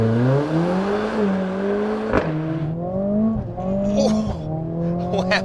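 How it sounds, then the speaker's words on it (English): A Mercedes-AMG A45 S hot hatch launches from a race-mode start and accelerates hard, its engine rising in pitch through several rapid gear shifts, each marked by a sharp drop and crack before climbing again. "Oh, wow, those gear shifts are really rapid, as is the whole car"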